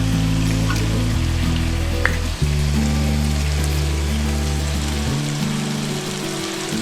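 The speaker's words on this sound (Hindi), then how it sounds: "हम भी यही कर रहे हैं, भून रहे हैं।" Green chickpeas and chicken fry steadily in a pan, a continuous soft sizzle running under a loud, steady low hum that shifts pitch a few times, with no talking.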